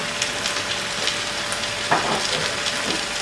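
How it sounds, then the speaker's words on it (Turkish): Spiced stuffed pepper filling with salt, sugar, cinnamon, allspice, mint and black pepper being stirred in a sizzling pan, a low hiss with soft scraping strokes of the spoon. "Hepsini karıştırıyoruz."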